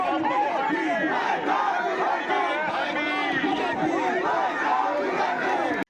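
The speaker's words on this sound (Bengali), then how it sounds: "মাইক হাতে সায়ন্তিকাকে গো ব্যাক স্লোগান দিতে থাকেন বিজেপি প্রার্থী সজল ঘোষ" A dense crowd chants and shouts political 'go back' slogans at a street clash, loud and continuous, many voices overlapping with no pauses.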